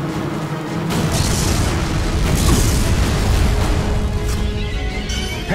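A grenade blows up in the shooter game Time Crisis 4, a loud, dense, rumbling blast that roars continuously for several seconds with crackling debris layered over it.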